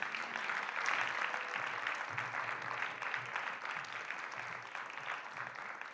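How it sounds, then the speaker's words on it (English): Audience at a researchers' competition event applauding the judges, a steady wash of clapping from a crowd in a hall, fairly distant and even throughout. "You can applaud them"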